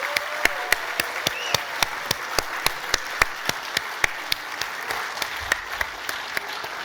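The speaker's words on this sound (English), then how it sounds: "for all of us to give John Chauvin a huge round of applause" An audience at the Stanford SIEPR 2024 summit applauding, a steady mass of clapping with a few sharp, distinct claps standing out throughout, sustained and fairly close.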